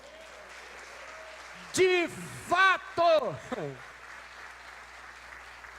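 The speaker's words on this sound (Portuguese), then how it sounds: "Você pode aplaudir o Senhor?" A church congregation claps during an Easter resurrection sermon, a low, steady patter of applause in the background while someone speaks over it in Portuguese.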